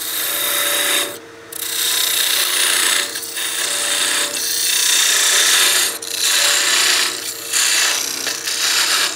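A nano parting tool cuts into a small wooden birdhouse ornament turning on a lathe at about 2,000 RPM, making a loud continuous scraping rasp that eases off in brief dips and surges again, with no talk.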